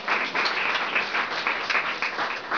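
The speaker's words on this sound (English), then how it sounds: "you're clapping for yourselves" An audience at a talk claps steadily throughout, a dense, even patter of many hands, close and continuous, with no voices over it.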